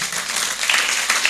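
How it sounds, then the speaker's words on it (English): A crowd at the official launch of the All Star Festival in Tamale claps in dense, continuous applause, many hands at once, loud and close and sustained without a break. "it's a good occasion to clap for him, eh?"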